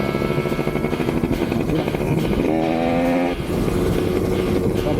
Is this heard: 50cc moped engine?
yes